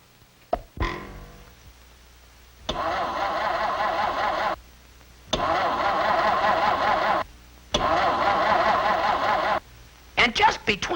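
Truck engine repeatedly cranking and failing to catch, three long grinding starter bursts separated by pauses, with short sputtering noises at the start and end.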